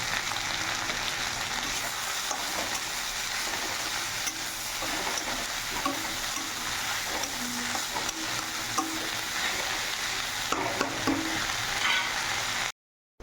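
Kharkon leaves frying with salt and turmeric in a pan make a continuous close sizzle, with small scraping knocks from stirring throughout and no one talking.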